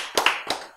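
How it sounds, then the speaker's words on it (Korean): A few quick hand claps from an audience at a Korean religious lecture, two or three sharp close bursts with no talking over them. "여러분 자신 위해서 박수."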